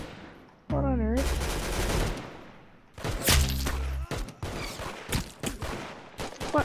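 Rapid automatic gunfire from the Roblox game Arsenal comes in loud bursts, with a tonal in-game effect near the start and then sharp cracks and clusters of shots, broken by brief pauses.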